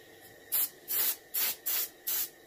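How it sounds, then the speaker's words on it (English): A paint spray gun angle-sprays the fins of a reproduction warmouth fish, giving five even, hissing bursts with short quiet gaps between them, close and steady. "I'm angle spraying all my fins"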